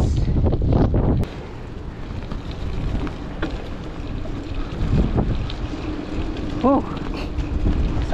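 Strong wind buffets the microphone outdoors on a sunny, cold New Zealand bike trail, a constant loud rumbling roar with gusts, while a voice talks briefly beneath it.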